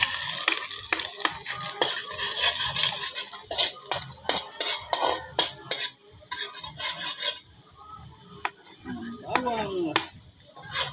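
Chopped onions and ginger sauté in a pan, with a soft sizzle beneath repeated scraping and stirring clatter of a utensil against the pan, while a voice talks intermittently throughout.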